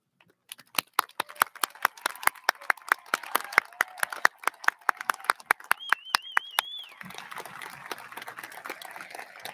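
Audience at a high school commencement clapping for cum laude graduates, with crisp, closely spaced claps, one clapper sharp and near, and a brief whistle partway through before the clapping thins out.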